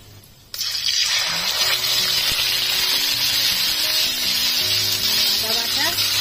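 Onion paste dropped into hot oil, with a bay leaf already in the pan, bursts into a sudden loud sizzle that holds steady and close, with faint background music underneath.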